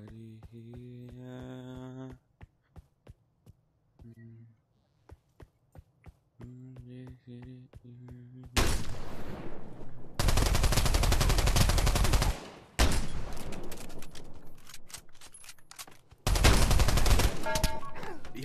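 Gunfire in the VR shooter Pavlov, during team deathmatch and gun game, comes in loud sustained automatic bursts after sparse single clicks and tonal game sounds, with brief gaps between volleys.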